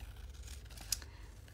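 Scissors trim the paper edges of an envelope during a craft session, giving a quiet snip and faint paper scratch in an otherwise hushed, close setting.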